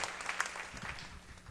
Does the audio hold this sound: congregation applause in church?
yes